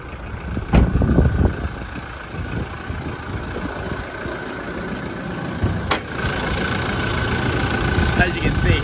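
2017 Toyota Hilux SR pickup with a tipper tray, engine idling steadily with a low even rumble, heard close with the bonnet open, with a couple of sharp clicks and a person talking over it.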